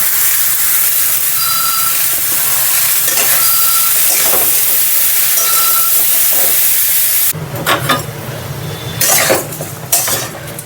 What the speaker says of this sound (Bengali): এভাবে একটু লাউটাকে নাড়াচাড়া করে নিতে হবে তেলের উপরে